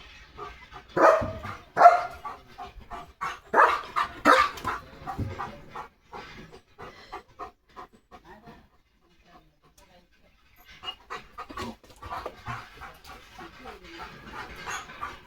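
A German Shepherd excited by a passing bullock cart pants and gives short barks and yips in rapid bursts, close and fairly loud, fading to near silence before resuming, with a person talking over it.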